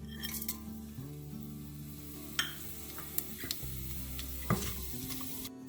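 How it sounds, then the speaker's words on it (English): Whole fennel seeds, cumin seeds, cardamom, anise seeds, cloves and cinnamon hit a hot pan for biryani, giving a soft, steady sizzle with a few sharp clinks of a utensil over a low, sustained tonal background. "And now I'm going to add the whole spices, fennel seeds, cumin seeds, cardamom, anise seeds, cloves and cinnamon."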